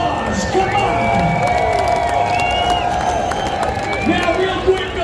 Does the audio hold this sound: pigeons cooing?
no